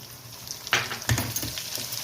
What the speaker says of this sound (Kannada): ಎಣ್ಣೆ ಕಾದ್ಮೇಲೆ ಸ್ವಲ್ಪನೇ ಹಾಕ್ಕೊಳ್ಳಿ.